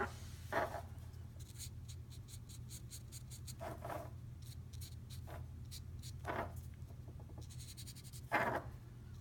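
A brush tip marker scratches across paper in a steady series of short, dry strokes, with a few louder rubbing passes, faint and close over a low hum.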